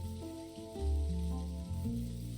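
Rain falls in the video game Dinkum as a soft, steady patter beneath a quiet, sustained tonal drone of game music.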